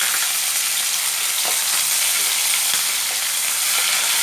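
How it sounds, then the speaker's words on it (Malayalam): Curry leaves and green chillies fry in hot oil with popping mustard seeds while pineapple pickle is being made, giving a steady close sizzle with scattered sharp crackles and no talking. "കടുക് പൊട്ടിക്കഴിയുമ്പോൾ നമുക്ക് കരിവേപ്പിൻ്റെ ഇലയും പച്ചമുളകും കൂടി ഇടാം കേട്ടോ."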